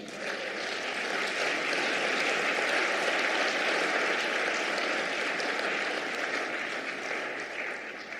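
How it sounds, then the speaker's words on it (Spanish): A church congregation applauding for the Lord, with thick, sustained clapping spread across a large room that holds steady and loud for several seconds, with no voices over it. "Dale un aplauso al Señor."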